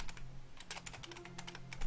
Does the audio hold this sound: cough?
no